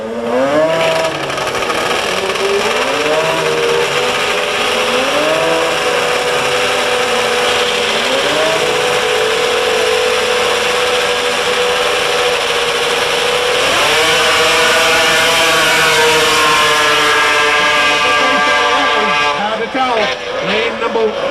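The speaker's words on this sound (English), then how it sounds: "Kurt Lombard, that's on a 700cc modified snowmobile engine. Let's see what they do." Modified 700cc snowmobile engines race down a grass drag strip in Windham, Maine, howling loud and continuous with rising, overlapping engine pitches that climb repeatedly as the sleds accelerate, under a steady crowd roar.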